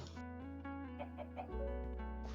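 A synthetic-sounding Minecraft hen clucks in short repeated bursts over a steady electronic hum, like a game soundtrack.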